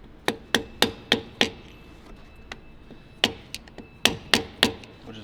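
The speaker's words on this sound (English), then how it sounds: "Which is a sawed off hammer." Sharp strikes from a sawed-off hammer on a stuck part of a 1984 Peterbilt 359 truck ring out in quick bursts, a run of five, a lone hit, then more clustered blows, close and loud with no talking.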